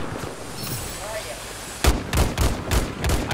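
Battlefield 4 gunfire erupts after a quieter stretch: a rapid series of loud, close, sharp shots in uneven bursts through the second half.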